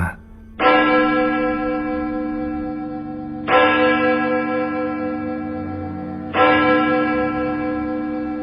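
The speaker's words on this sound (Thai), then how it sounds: "ทันใดนั้นเองก็มีเสียงะระฆังดังมาจากที่ไหนสักแห่ง" Three deep, resonant bell strikes, evenly spaced a few seconds apart, each ringing out and slowly decaying with a long echoing hum.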